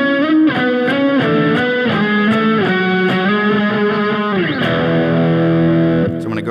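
Heavily distorted electric guitar plays a quick run of notes stepping downward, then holds a long sustained note near the end.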